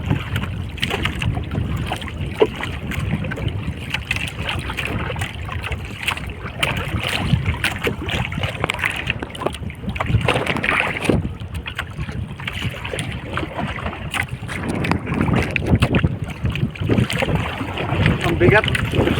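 Strong wind roars against the microphone over water, gusting continuously with splashing and a paddled boat creaking nearby.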